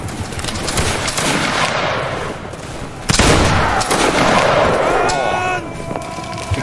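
A Napoleonic reenactment line of Saxon fusiliers fires a musket volley: a ragged crackle of shots, then a louder burst of near gunfire, followed by scattered reports and shouting.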